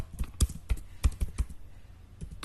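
Rapid keystrokes on a computer keyboard while entering headings into an Excel attendance sheet, a close, irregular clatter of taps in short bursts that trail off toward the end, with no voice over them.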